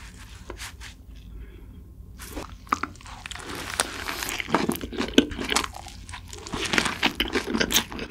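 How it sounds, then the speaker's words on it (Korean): Close-up eating of a Guinness burger with a black bun, soft bites and crunchy, moist chewing with faint wrapper crinkles, building in intensity, no talking. "다음은 기네스 버거 먹어볼게요."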